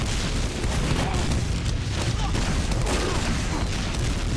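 Rocket launches and explosions from a Team Fortress 2 match, a dense, loud barrage of booms and blasts that continues without pause under a layer of broad game noise.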